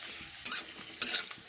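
Sago papad frying in a pan of hot oil, with soft bubbling sizzle and a few louder stirring scrapes, close by and without talk.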